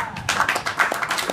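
A small audience at a debate event claps briefly in a quick burst of sharp, close hand claps.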